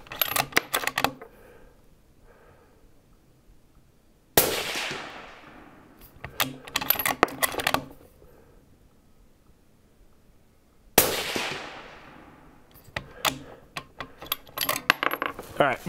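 A 6mm GT precision rifle built for PRS matches fires three shots at spaced intervals, each a sharp, loud report with a long fading echo, separated by quieter clicks and handling noises.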